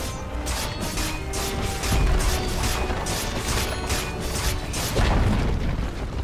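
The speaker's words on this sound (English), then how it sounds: "Dire's middle tower has fallen." A tower under attack and falling in Dota 2, with a steady clatter of hits, impacts and mechanical crunches, swelling into heavier booms around 2 and 5 seconds amid battle noise.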